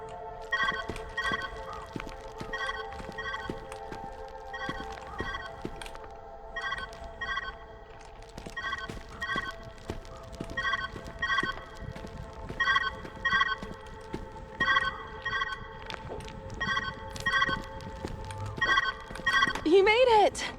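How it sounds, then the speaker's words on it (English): In the video game Viewfinder, a telephone bell rings in repeated short bursts with brief pauses between them, steady and moderately loud, while a person talks over it. "Where's that ringing coming from?"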